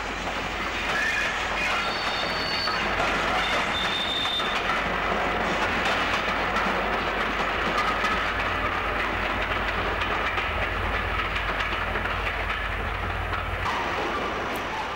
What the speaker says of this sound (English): This three-car class 305 is probably bound for Ilford Depot